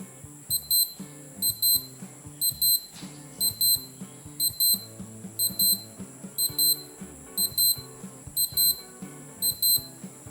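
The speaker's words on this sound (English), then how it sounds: "this little chime punches well above its weight" A Casio LF-30W digital watch sounds its alarm, a bright, piercing electronic beep repeated in quick double pulses at a regular rhythm, close and clear for about ten seconds.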